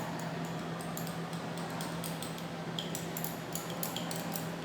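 Rapid light clinks and ticks as a sulfadimidine mixture is stirred in laboratory glassware containing thick, viscous propylene glycol. The ticks repeat steadily over a constant low hum.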